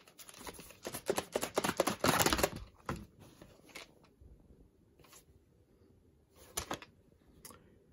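Older Paramount VHS tape case being opened, a burst of close plastic clicks, creaks and rustles early on, then a few isolated snaps and taps in quiet, with no talking.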